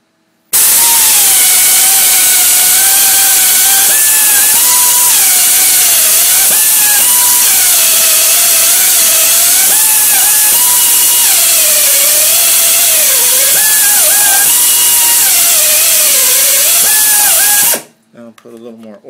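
A pneumatic tapper cuts a fine 1 inch by 14 thread into a pre-drilled hole, a loud, continuous whine that wavers in pitch as the load changes, then cuts off abruptly near the end.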